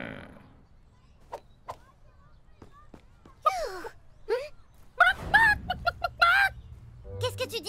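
A person makes squawking, warbling chicken-like clucks and gasps in short bursts, imitating a hen, with quiet clicks and pauses between.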